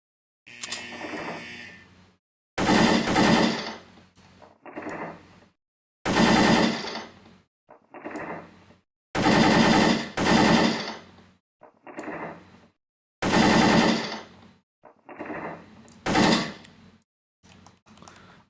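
Repeated bursts of mechanical gunfire from a firearm in the World of Guns gun disassembly game, loud clattering volleys separated by short pauses, with no talking.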